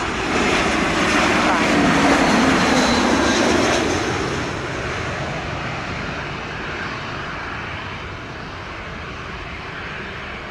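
A Spirit Airlines Airbus A321 jet lands at Montego Bay airport in Jamaica, a broad steady engine roar close by that slowly eases off across the span, with a voice faintly present.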